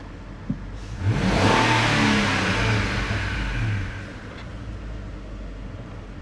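Petrol car engine running after injector cleaning, revving up in a strong sustained rise that holds for a few seconds before easing back toward a steady idle; close and loud, with no talking.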